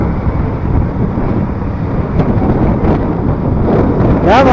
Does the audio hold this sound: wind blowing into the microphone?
yes